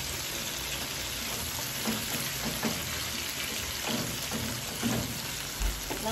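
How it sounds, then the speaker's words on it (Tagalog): Chicken sautéing in a pan for paksiw na gata, a steady soft sizzle with faint clinks and stirring scrapes, close and continuous with no talking. "Nasa sauté pa lang tayo."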